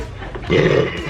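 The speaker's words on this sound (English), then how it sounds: "Definitely got a burp in there brewing." A single short, throaty burp from a man at a burger eating challenge, close and fairly loud, lasting about half a second.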